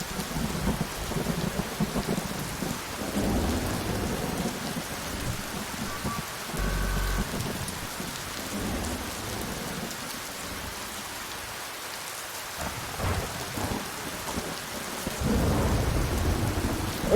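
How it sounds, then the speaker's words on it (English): Heavy rain pours steadily with deep rumbles of thunder rolling underneath, swelling louder near the end. "Yeah, loud rain."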